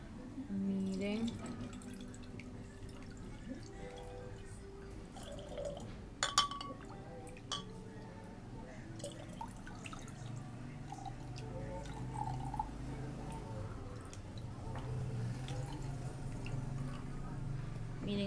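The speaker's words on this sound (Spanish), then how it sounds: "Estoy que sigue llenando con una taza porque no se llena." Water poured from a cup into a bottle in a classroom-style water activity, giving a steady trickling, splashing fill with occasional drips and glassy clinks throughout, with a faint voice in the background.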